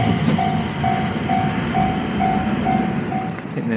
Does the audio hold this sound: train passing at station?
yes